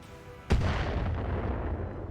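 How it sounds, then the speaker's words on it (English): A single mortar shot booms out in the BattleTech game, a sudden heavy blast followed by a long rumbling decay that fills the rest of the moment. "That's a mortar."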